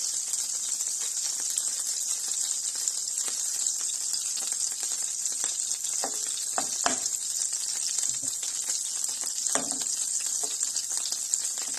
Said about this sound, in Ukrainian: Ось такими котлеточками вони будуть смажитись.